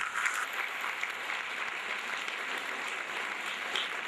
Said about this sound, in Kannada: very good round of applause